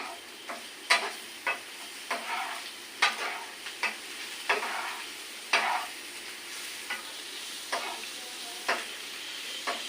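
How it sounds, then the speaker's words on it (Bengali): Onions fry in a pan with a soft sizzle under repeated sharp stirring clicks and scrapes of a spatula, close and fairly quiet, no talking. "আমার পেঁয়াজ ভাজিটা অল্প একটুক্ষণের মধ্যে হয়ে যাচ্ছে"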